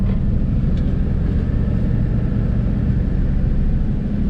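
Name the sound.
truck wheels spinning in mud pit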